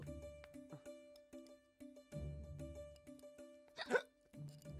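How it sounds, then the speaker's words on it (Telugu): Repeated hiccups from a person in a Telugu comedy scene, a quick series of short, sharp catches spaced through the moment, heard close and fairly clear amid light background sound. "అదేంట్రా అన్నయ్య 2 సార్లు వినబడుతున్నాయి ఎక్కిళ్ళు?"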